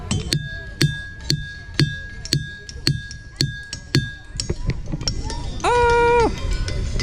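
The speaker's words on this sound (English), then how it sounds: "Some of these rocks have these patches where you can hit it." Hard boulders at Ringing Rock Park struck with a hammer, giving about ten bright, bell-like clinks in a steady rhythm with lingering metallic tones, followed by a few scattered strikes and a brief sustained ringing tone near the end.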